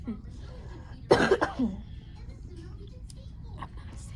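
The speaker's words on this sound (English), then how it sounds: "That's why I'm coughing like that." A person with chest congestion coughs in a short harsh burst of two or three coughs, close to the microphone, amid quiet room noise and faint murmuring.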